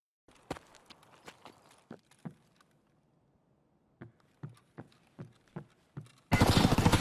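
Footsteps on wood in Escape From Tarkov: a run of sharp, close knocks, a short pause, then another run of steps, ending abruptly in a burst of loud, harsh noise.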